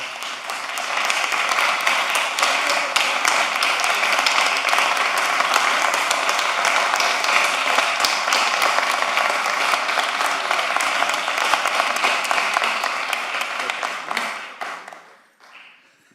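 A room of attendees at a commission meeting gives sustained applause for about fourteen seconds, steady and dense, then quickly tapers off into quiet.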